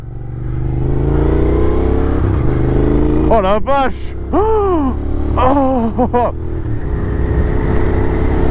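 A Moto Guzzi V7 Racer motorcycle engine runs loud and close, a steady throbbing idle that swells into revs, while excited voices exclaim over it.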